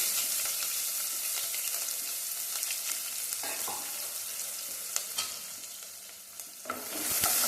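Finely chopped small onions sizzle and crackle steadily in hot oil with mustard seeds, while a spoon scrapes and stirs them in the pan at intervals; no one speaks.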